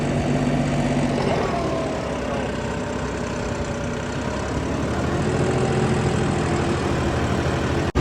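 A tractor engine working a field drones steadily at close range under heavy load, a low rumbling hum that holds constant throughout.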